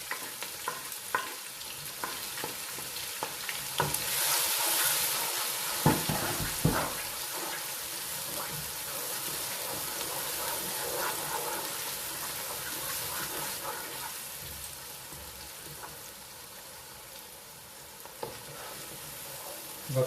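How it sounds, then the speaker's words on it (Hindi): Finely chopped onions fry in a pan for chikar cholay, a continuous crackling sizzle that swells early and keeps going. Occasional stirring scrapes and clinks cut through the frying noise. "और अब हमने इसके अंदर यहाँ पर डालना है प्याज।"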